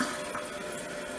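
Water rushing into a newly installed toilet after its supply line is reconnected and turned on, a steady continuous hiss of filling flow, close and unbroken.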